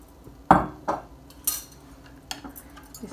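Utensil stirring milk, lemon juice and other homemade ranch sauce ingredients together in a bowl, a few distinct clinks and scrapes against the side spaced across a quiet moment.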